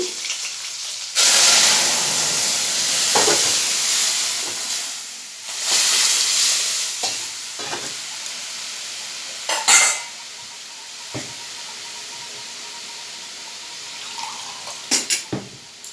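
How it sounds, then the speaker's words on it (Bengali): Boiled bean dal is poured into a hot pan and hisses and steams in loud bursts, followed by quieter bubbling with occasional sharp clinks and splashes. "এই যে ডালটা সিদ্ধ করে রেখেছি তাও দিয়ে দিচ্ছি"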